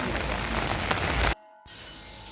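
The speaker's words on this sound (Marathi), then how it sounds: "वरून पावसाची रिपरिप सुरूच आहे" Steady rain drizzles over a river, a dense even hiss of drops that cuts off abruptly partway, then resumes softer with a faint hum underneath.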